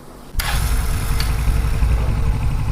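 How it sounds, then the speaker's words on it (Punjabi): A motorcycle fitted with a remote start device cranks and catches, then settles into a steady, close, loud idle with no voices. "ਮੋਟਰਸਾਈਕਲ ਸਟਾਰਟ ਹੋ ਗਿਆ"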